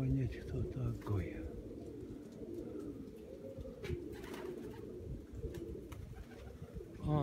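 A red white-headed pigeon and its loft-mates keep up a steady, low burbling coo close by. The throaty rolling calls overlap, and someone talks intermittently over them.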